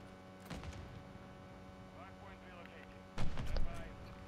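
A grenade goes off in a ranked online shooter match, giving two loud broadband bursts, a short one near the start and a stronger, longer blast toward the end, over steady game hum with faint chatter.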